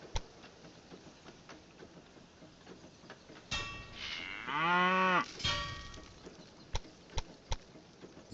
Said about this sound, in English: Lots of noise from the cows.